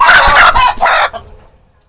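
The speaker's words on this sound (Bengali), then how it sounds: "সুটাম দেহের মুরগি হলো সোনালী মুরগি" Sonali chicken clucking up close, a rapid run of loud bursts that fades out within about two seconds.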